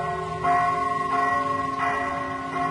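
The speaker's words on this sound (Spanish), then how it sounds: "apenas levemente interrumpido por el tañer de las campanas del templo de San Francisco de Asís" Church bells of the San Francisco de Asís temple in Cuerámaro, Guanajuato, ring across the Manuel Doblado garden: four resonant strikes at steady intervals of under a second, each ringing on with a long shimmering tail over quiet ambience.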